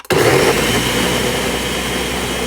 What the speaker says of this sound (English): This is a really good blender, by the way,